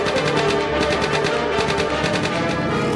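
Rapid, continuous machine gun fire from an early fighter airplane's gun, loud and steady throughout, a dense stream of shots with no talking.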